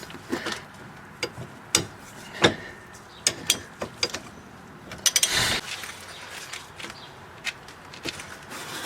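Wrench turning an inner tie rod end on a 1999 Pontiac Grand Prix, with irregular metallic clicks, knocks and ratcheting rubs close by, a few sharp hits and a brief louder grinding scrape partway through.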